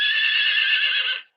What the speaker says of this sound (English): Hi, horse. Yeah, that's who's saying that noise.